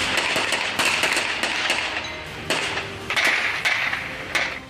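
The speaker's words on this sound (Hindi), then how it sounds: "लेकिन उसकी गोलियों की आवाज आप साफ साफ सुन सकते हैं।" Gunfire during an attack on a security bus in Baramulla, Kashmir, recorded from far off: a loud, sharp series of cracks with uneven gaps, ringing against buildings under constant background noise.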